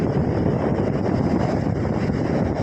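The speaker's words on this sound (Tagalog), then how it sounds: "Ngayon malakas ang hangin sa tabing dagat" Strong wind at the seashore buffets the microphone in a constant, loud roar, with a faint wash of surf underneath.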